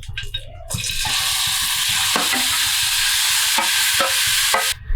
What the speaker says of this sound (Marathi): तर आता हा किस तुपामध्ये परतून घ्यायचा.